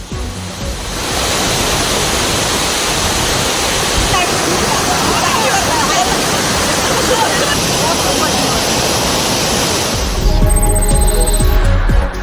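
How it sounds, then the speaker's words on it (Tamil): The flooded Kurangu waterfall near Valparai pours down in a loud, steady roar of rushing water, close and unbroken, with a brief change in the texture of the noise toward the end. "குரங்கருவியில் திடீரென்று வெள்ளப்பெருக்கு ஏற்பட்டது"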